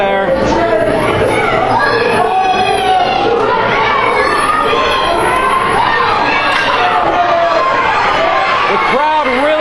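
A wrestling crowd at a tag-team match cheers and shouts loudly and continuously, with many overlapping voices and excited yells filling the whole stretch.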